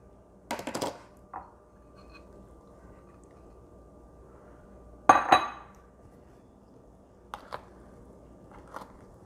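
Pieces of fruit dropped into a bowl for a fruit salad, a few scattered clinks and soft knocks in separate bursts against a quiet background.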